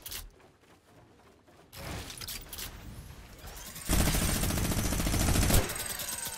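Sustained rapid minigun fire in Fortnite, a dense continuous roar of automatic shots that swells louder partway through and holds steady to the end, with no talking.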